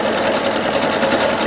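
A Singer Legacy SE-300 embroidery sewing machine stitches at a steady, rapid rhythm, its motor and needle chattering loudly and close with no talk.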